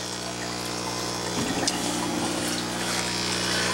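Water pours steadily from the outlet pipe of a backyard aquaponics barrel system, a constant rushing flow with a low mechanical hum underneath and a slightly louder splash partway through.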